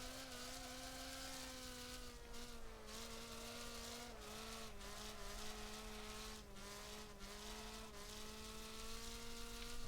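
A race car engine drones steadily in the racing game Wreckfest as the rear wheels spin up, a continuous high whining tone wavering in pitch with brief dips as the throttle lifts, loud and unbroken.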